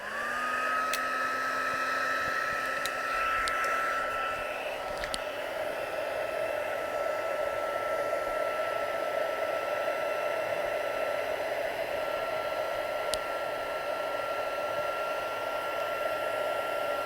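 Heat embossing tool warming decorative snow powder on a handmade Christmas card, a steady whirring blower hum with a high whine that holds throughout, a few faint clicks, no speech.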